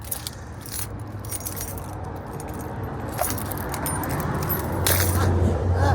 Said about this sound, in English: I drop these keys every time.